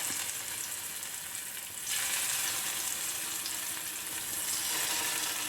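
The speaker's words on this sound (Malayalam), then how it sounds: "ഷാലോ ഫ്രൈ ആണ് ചെയ്തെടുക്കുന്നത് കേട്ടോ നമുക്ക് മത്തി ഇട്ട് കൊടുക്കാം" Sardines shallow frying in a couple of tablespoons of oil in a pan over medium flame, a continuous crackling sizzle that swells louder midway as the fish goes in.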